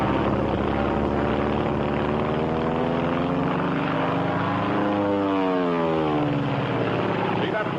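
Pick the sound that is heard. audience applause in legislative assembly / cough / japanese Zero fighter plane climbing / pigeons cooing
japanese Zero fighter plane climbing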